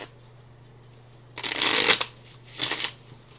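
A hand of Onirim playing cards gets shuffled twice, each a quick riffling flutter of about half a second, close and crisp against a quiet room with a faint hum.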